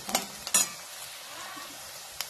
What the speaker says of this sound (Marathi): आता कांदा चांगला भाजायचा आहे।